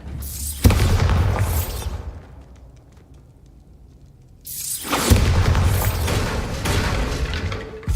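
Spell blasts in Hogwarts Legacy crash out in loud, dense bursts, with a deep boom, a quieter rumbling lull, and then another heavy explosive roar.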